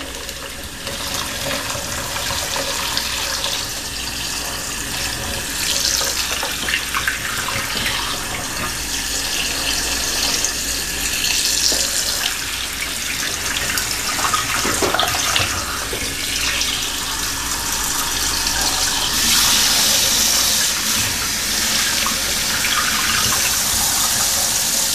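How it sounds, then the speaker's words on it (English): Cold water runs steadily from a kitchen tap into a sink as hot water is poured off boiled quail eggs, a continuous close gush lasting throughout. "I like to add a little cold water while I'm dumping the hot water."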